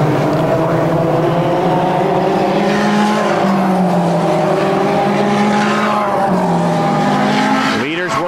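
Dirt modified race cars roar around a dirt speedway at Airborne Speedway in Plattsburgh, NY, a dense continuous engine drone with rising and falling pitches as cars pass, loud and steady, with a commentator talking over it.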